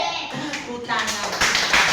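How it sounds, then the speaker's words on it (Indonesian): A classroom of children claps hands in a quick burst of scattered, overlapping claps that grows louder toward the end, with a teacher's voice and children's chatter mixed in. "tepuk tangan."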